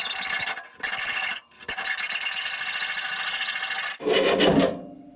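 A radiator coolant hose on a Jeep is cut with a rasping, sawing scrape in repeated strokes, with brief pauses, ending in a final squeaky rub, heard up close with no voices.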